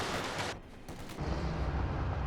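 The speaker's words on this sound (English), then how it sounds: "MG34 here to provide some fire support." MG34 machine gun fire in the Company of Heroes real-time strategy game, a dense, continuous rattle of gunfire with a brief dip in the middle before resuming loudly, mixed with battlefield noise.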